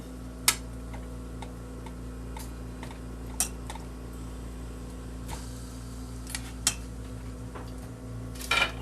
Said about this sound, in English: And then I chop me up some weenies.